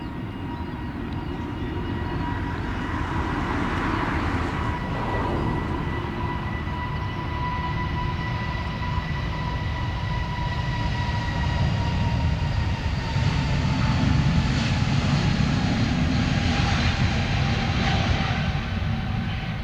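A steady, loud roar of aircraft jet engines during takeoff at London Stansted Airport, building and holding with a high whine on top, continuous for the whole stretch, no talking.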